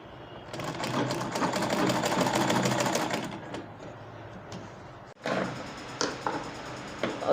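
A sewing machine runs steadily while stitching a seam on a peplum top with a yoke and flared skirt, a loud continuous whir for about three seconds, then softer intermittent stitching and handling noises.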